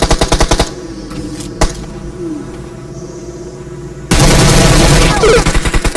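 Rapid bursts of loud gunfire from a shooting challenge, a quick volley at the start, a few scattered pops, then a sustained heavy barrage near the end, with a faint voice briefly underneath.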